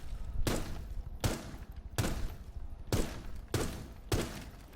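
Gunfire in Rainbow Six Siege shooting through a wooden box, heard as five or six heavy, evenly spaced bursts of shots with thudding impacts, loud and close with no talking.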